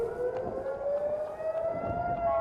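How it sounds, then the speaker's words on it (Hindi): Air raid siren wailing during a rocket attack in Israel, a steady rising tone that sounds continuously and fairly loud throughout, with no speech over it. "तो लगातार सायरन की आवाज इजराइल के अलग अलग इलाकों में,"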